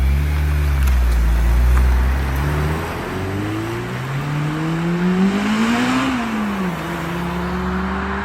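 A car with a modified, aftermarket exhaust and intake idles low, then climbs in pitch through a sustained rev that peaks and settles back, loud and close with a deep, throaty drone throughout.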